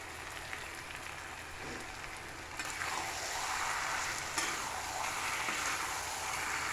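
Chicken roast with green chillies sizzles and hisses steadily in a pan, a soft continuous crackle that grows slightly louder midway, with faint stirring knocks.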